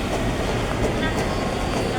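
A Tokyu 8500 series KRL commuter train stands at platform 1 of Jakarta Kota station, giving a continuous rumbling, humming rail-yard din with faint station bustle and no clear talk.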